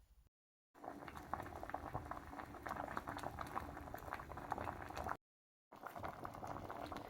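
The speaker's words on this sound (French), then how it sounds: "Maintenant, je vais mettre le tout à bouillir pendant 30 minutes." Pineapple juice with pineapple skins and added water boils in a pot, a dense, steady bubbling and popping heard up close, interrupted by two brief silent gaps.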